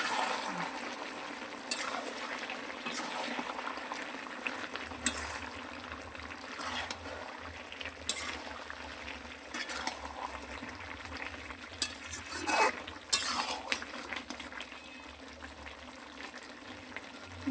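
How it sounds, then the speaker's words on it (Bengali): A chicken curry is stirred in a pot as it cooks down, with soft bubbling and sizzling under intermittent scraping strokes of a spoon against the metal, fairly quiet and close. "ঢাকাটা খুলে এবার কিছুক্ষণ নাড়িয়ে নেব।"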